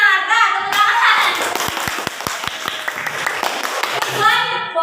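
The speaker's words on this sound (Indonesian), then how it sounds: "Nah, tepuk tangan." A short burst of clapping from a classroom audience of pupils: a few sharp, separate claps, then a brief spell of mixed hand claps, with children's voices talking around it.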